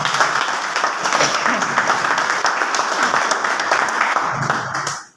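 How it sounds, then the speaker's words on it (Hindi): A crowd at a motivational business meeting claps loudly and steadily, sustained applause that fills the room for about five seconds before cutting off abruptly. "इन सभी लोगों के लिए एक बार जोरदार तालियां।"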